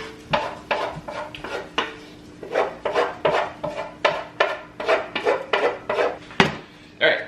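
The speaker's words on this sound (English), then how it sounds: "we're gonna throw those right into the crock pot so they're ready to go for later" A spoon or spatula scrapes and knocks sautéed aromatics out of a pan into a crock pot, a run of rapid clattering strokes, close and alone.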